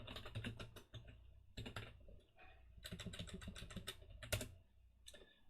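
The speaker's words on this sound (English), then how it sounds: "You're also going to be hearing my keyboard" Rapid clattering keystrokes on a computer keyboard come in bursts with short pauses, close and fairly quiet, no talking over them, during a live track-building session for NR2003.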